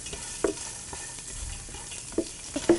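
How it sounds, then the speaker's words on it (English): Garlic sautéing in a pan for a curry-leaf dish, a soft sizzle under a few sharp scraping stirs of the utensil against the pan. "when it looks like the garlic is pretty much sauteed"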